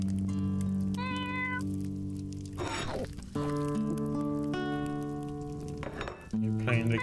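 In the video game Tchia, a cat meows in stretched, pitched cries while a guitar is played, melodic tones alternating with brief clinks and noisy bursts, close and clear.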